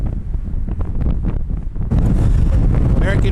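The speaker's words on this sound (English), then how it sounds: "Man, it's windy today." Strong outdoor wind buffets the microphone at an airport plane-spotting spot at Cleveland Hopkins, rumbling in uneven gusts before surging into a louder, continuous roar partway through.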